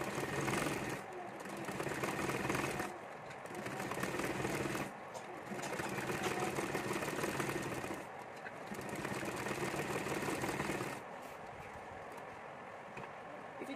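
A sewing machine stitches a baby dress in bursts of fast, rattling whirr separated by short pauses, close and fairly quiet.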